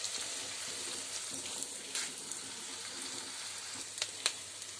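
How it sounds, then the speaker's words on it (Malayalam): Grated coconut sautéing in a pan for Kerala-style carrot upma gives a steady soft sizzle with occasional light crackles and stirring scrapes, close and alone. "ആ തേങ്ങയുടെ ആ പച്ചച്ചുവയൊക്കെ ഒന്ന് മാറുന്നതും വരെ ഒന്ന് വഴറ്റി വിടുക"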